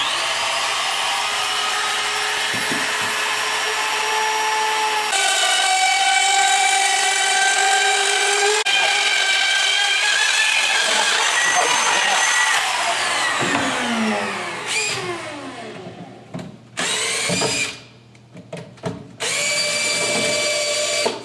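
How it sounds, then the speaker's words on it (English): Roto-Zip spiral cutting tool boring a hole through the back panel of a wooden aquarium stand, a loud, close, high-pitched whine that shifts pitch as it bites, then stutters and stops and restarts near the end. "We'll use this to easily cut out the hole in the back of the stand."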